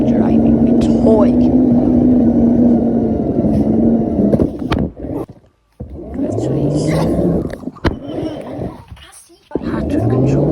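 A heavy toy car driven around a house gives a loud, steady motor whine that drops out briefly and then resumes, with people talking over it.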